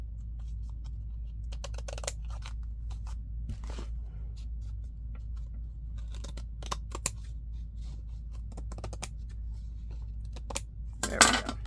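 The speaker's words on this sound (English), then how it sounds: "Let's trim this off at the top." Scissors snip across the top edge of a paper junk journal envelope in short scattered cuts, crisp close clicks and rasps spread out with pauses over a low steady hum, a louder flurry near the end.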